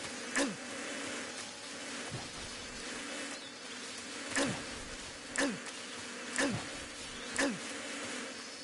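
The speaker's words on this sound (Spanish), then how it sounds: "me siguen las abejas" A swarm of bees buzzes in Metal Gear Solid 3: Snake Eater, a continuous dense insect drone with repeated sharp, louder passes sweeping close at regular intervals.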